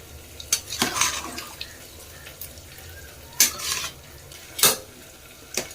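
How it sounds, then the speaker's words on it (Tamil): Basmati rice being stirred into a chicken biryani pot, with a handful of sharp scraping and clinking strokes against the metal pot spread across several seconds, close and moderately loud with no talking. "அரிசிலாம் போட்டு நல்லா மிக்ஸ் பண்ணிக்கலாம்."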